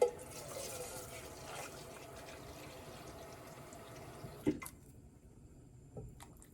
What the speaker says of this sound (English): Then I'm just going to stir in about 2 cups of water.